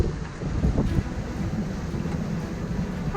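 Strong wind gusts buffet the microphone aboard a sailing boat in Greek waters, a steady low roar with a louder gust near the start, rising wind and waves, no talk.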